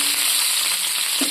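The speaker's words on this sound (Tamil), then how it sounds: "ஆனியனை நல்லா வதக்கிக்கலாம்." Chopped onions sauté in hot oil in a pan, giving a loud, steady, close hiss of frying with a faint stir near the end.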